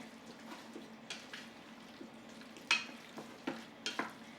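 Beef stock ingredients sizzle softly in a hot pan as they are swirled around, with faint scraping and stirring taps recurring over a low frying hiss.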